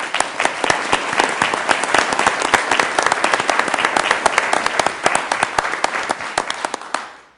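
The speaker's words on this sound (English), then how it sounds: "Let's give them a round of applause." A council meeting audience in Sioux Falls claps for municipal clerks, close and fairly loud with sharp individual claps standing out, then dies away at the end.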